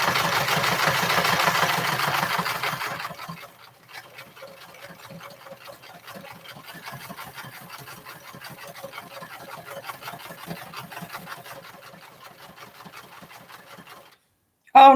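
A sewing machine runs steadily across fabric while sewing a tiny standing bag, a continuous rapid stitching whir lasting several seconds. A louder burst opens the stretch and the motor stops near the end.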